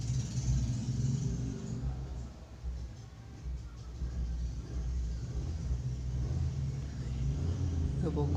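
Vehicles practicing on a nearby race circuit give a low, continuous rumble of engines heard from a distance, steady throughout with slight swells, under a low background.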